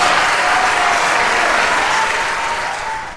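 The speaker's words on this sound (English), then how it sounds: "He deserves a standing ovation, so everybody, round of applause" A crowd claps steadily through a round of applause, a broad, even wash of hands that holds loud and close before easing slightly at the end, with no voices over it.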